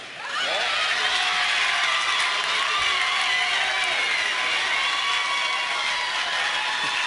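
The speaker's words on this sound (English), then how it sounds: "The crowd is very much into it." A Little League World Series baseball crowd, fans in yellow shirts on their feet, roars with sustained cheering and applause that stays loud and dense throughout, with a brief sharp whistle rising partway through.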